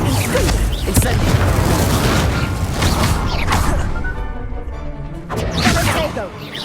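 In Hogwarts Legacy an Incendio fire spell is cast mid-combat, bringing a loud whooshing burst and booming impacts in a dense stretch of game effects while a voice calls out over the action.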